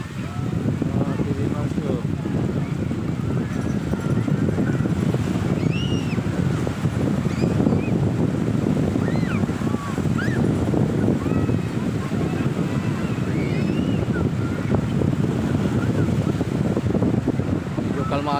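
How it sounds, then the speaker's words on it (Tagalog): Calm ocean waves at a beach during a seaside festival, a steady continuous wash of surf with wind buffeting the microphone, and voices talking throughout. "Kalmado lang yung alon"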